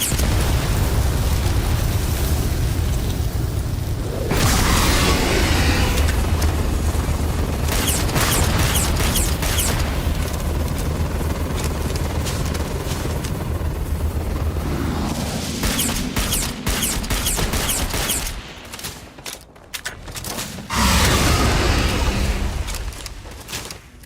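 A loud, rumbling explosion blast from something blown up in Starfield, sustained roaring and crackling debris lasting many seconds, with further booms near the end and no talk.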